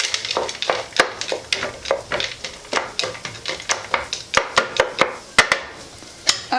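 Dinner cooking in a pot, with a utensil knocking and scraping against the pot in a quick, regular run of sharp taps. The taps are close and fairly loud over a faint sizzle.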